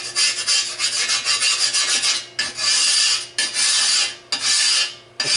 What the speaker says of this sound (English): You can take a large piece of sheet metal like this, sit it on there like that, and just work the rust off it.